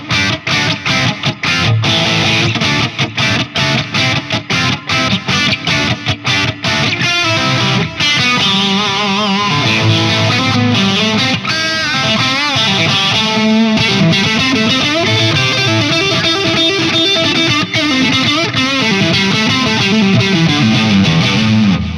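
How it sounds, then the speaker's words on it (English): A Donner DST-600 Strat-style electric guitar played through heavy distortion, loud and continuous, with fast chugging strums at the start that give way to sustained riffs and lead lines. "let's add a little more distortion here"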